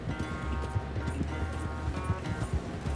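Horse galloping in the video game Red Dead Redemption 2 during a race, a steady rhythm of soft hoof clops under a background hum, fairly faint.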